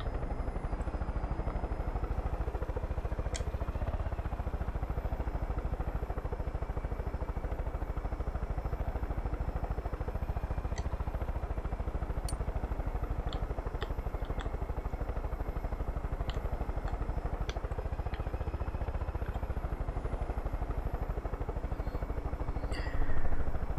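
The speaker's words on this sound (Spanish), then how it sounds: "Porque no tiene musiquita el helicóptero también." Helicopter in the video game Far Cry 5 flying with a constant low rotor and engine rumble, steady and close throughout, with a few faint clicks and clatters over it.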